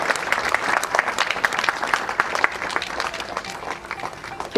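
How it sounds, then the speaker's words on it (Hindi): Sustained audience applause at a felicitation event, dense crowd clapping that holds steadily throughout and swells slightly at the very end. "तालियां बजती रहनी चाहिए।"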